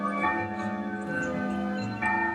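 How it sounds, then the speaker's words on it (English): A grandfather clock chiming midnight, its sustained bell-like tones ringing steadily and overlapping, with a fresh strike near the end and no voices. "The grandfather clock struck midnight."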